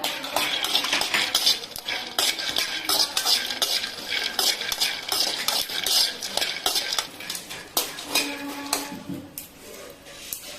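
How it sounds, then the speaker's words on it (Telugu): Chana seeds and coconut being fried in a pan, with a utensil scraping and clinking steadily against the metal over a soft sizzle, close and continuous, no talking. "శనగ విత్తనాలు కొంచెం వేగిన తర్వాత కొబ్బరి వేసుకోవాలి"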